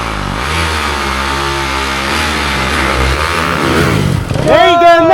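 A Yamaha YZ dirt bike engine roars loud and close as it climbs an icy hill, its pitch sweeping up and down with revving, then rising sharply into a high whine near the end; voices talk over it.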